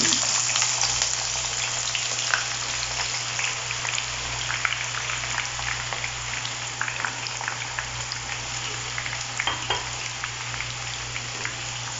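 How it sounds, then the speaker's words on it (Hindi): Thinly sliced onions fry in reused chicken-frying oil with a steady, dense sizzle that crackles and pops throughout, close and continuous with no voices. "अब हम इसे फ्राई कर लेंगे। ये वही वाला ऑयल है जिसमें हमने चिकन फ्राई किया था।"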